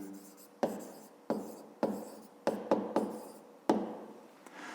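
Writing out a math solution for a fifth-grade exercise produces a series of quiet, separate scratchy strokes at irregular intervals, each fading quickly, with no talking.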